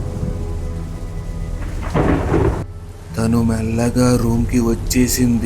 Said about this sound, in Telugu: అప్పుడే మెల్లగా ఉరుములతో కూడిన వర్షం మొదలయ్యింది.